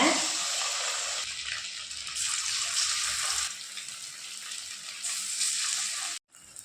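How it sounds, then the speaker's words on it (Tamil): Marinated vavval (pomfret) fish fry in oil in a kadai, a loud, hissy close-up sizzle that rises and dips in waves before cutting off abruptly near the end, with no voices. "இப்போ நம்ம ஊற வச்சுருக்க மீனை எண்ணெயில் சேர்த்துக்கோங்க"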